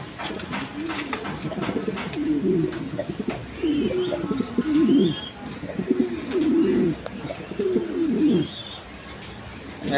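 Caged pigeons cooing at a pigeon seller's, several low throaty coos repeating in close succession with faint chirps and light background noise.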